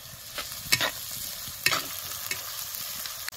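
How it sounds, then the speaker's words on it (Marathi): Chopped onion with a little salt fries in a pan for a potato bhaji, giving a steady soft sizzle broken by a few sharp spatula scrapes as it is stirred, close and alone with no talking. "असा कांदा चांगला भाजून घ्यायचा."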